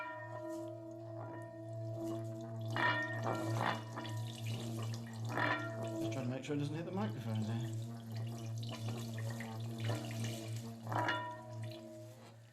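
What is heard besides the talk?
Tibetan fountain singing bowl with water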